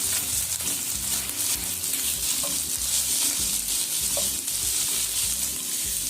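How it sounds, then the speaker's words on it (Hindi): Finely chopped carrots fry lightly in a pan, giving a steady close sizzle with soft stirring scrapes running throughout, no voices. "गाजरें डाल रहे हैं, ये बारीक बारीक हमने काट कर रखी थी। इसको हम हल्का सा फ्राई करेंगे।"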